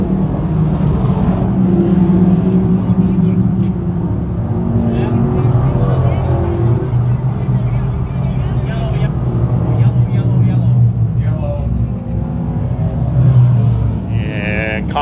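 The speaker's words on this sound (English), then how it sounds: "Driving away from the field in the early going here as they work in lap number 2." Sportsman race cars racing on the Can-Am Speedway track early in the feature, a continuous loud engine roar with rising and falling passes under an announcer's running commentary.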